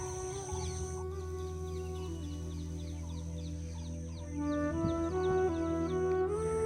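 Repeated peacock calls ring out over a steady low outdoor hum at Anuradhapura, Sri Lanka, a loud harsh call rising toward the end.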